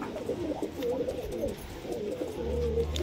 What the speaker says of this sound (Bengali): পায়রা জোড়ায় আছে, ডিমে বসে আছে।